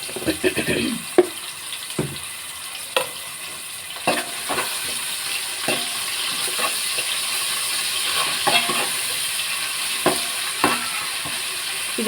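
Ginger paste frying in a pan for a korramenu fish curry, a steady broad sizzle with intermittent scraping and stirring clicks close by, no voices.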